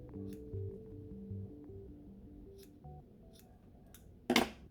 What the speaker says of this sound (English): then I just like to give mine a little bit of a trim